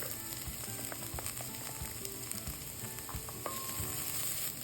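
Onions sautéing in a pan for restaurant-style aloo gobhi, a steady close sizzle with scattered light clicks and scrapes of stirring throughout, no voices.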